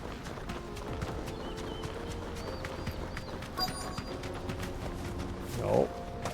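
Horse hooves clip-clop steadily in the Final Fantasy 16 video game, a moderate, even rhythm beneath game ambience and someone talking, ending with a short snort or whinny.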